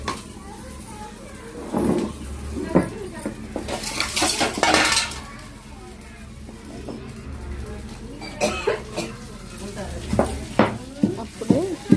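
Curry leaves roasting in a pan for a moringa and curry-leaf spice powder, with repeated scraping and clinking of a metal spoon against the pan amid kitchen clatter and a voice talking.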